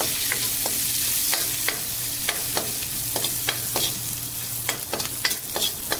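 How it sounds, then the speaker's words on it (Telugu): Garlic fries in hot oil for a pachi pulusu tempering, a loud, continuous sizzle punctuated by sharp scraping stirs of a spoon against the pan, close up and with no voices. "సో ఇది వెల్లుల్లి వేగాలి."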